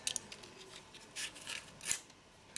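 Scissors snip through a tea light's wax, cutting it into small pieces for melting, with a few soft crisp cuts and rasping scrapes at close range and no talk.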